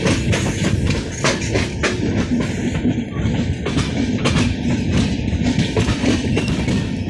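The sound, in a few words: AC LHB train running on rails while turning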